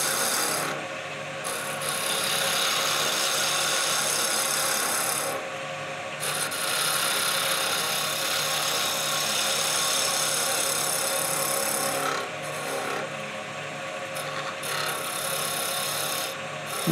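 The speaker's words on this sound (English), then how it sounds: "you'll see the way I do it with the piece of 120 grit sandpaper" Sandpaper of 120 grit rubbing a wooden taper, likely on a spinning workpiece, a steady close rasping hiss that continues with brief dips in loudness.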